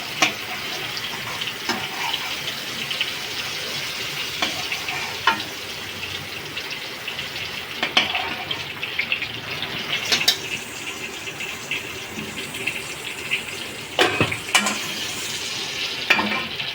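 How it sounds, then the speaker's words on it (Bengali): Pointed gourd (patol) frying with cumin in a pan makes a steady, close sizzle, broken now and then by scraping stirs and clinks of a spatula, with no talking. "একটু এরকম করে ভাজবেন।"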